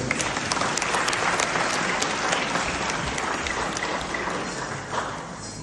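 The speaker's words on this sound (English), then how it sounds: "ladies and gentlemen, if you don't mind, give a round of applause" An audience at a dance studio showcase breaks into loud, dense applause that keeps up evenly and then slowly thins and fades near the end.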